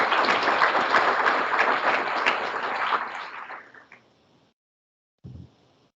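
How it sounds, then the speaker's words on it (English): An audience applauds after a talk at a conference session: dense, steady clapping that swells and then fades out over a few seconds, followed by a brief quiet and a short bump of noise. "One more round of applause for everybody."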